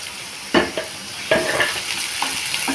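Ginger garlic paste sizzles in a hot pan with oil and spices. Two louder bursts mark the paste dropping in, then a steady frying hiss with a few stirring scrapes.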